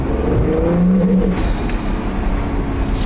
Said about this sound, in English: Fuel system problem, vehicle performance limited. And if I try to give it any sort of gas, it just,